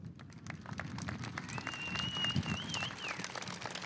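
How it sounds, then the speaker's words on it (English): Audience applause at an outdoor Veterans Day ceremony, a soft, steady patter of clapping heard from a distance, with a thin whistle-like tone drifting over it midway. "let's keep the applause and the celebration going"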